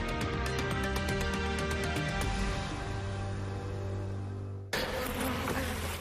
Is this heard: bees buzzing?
yes